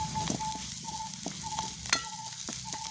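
Curry leaves crackle and sizzle in hot oil during outdoor village-style cooking, a steady, close frying hiss with scattered pops and stirring clinks throughout.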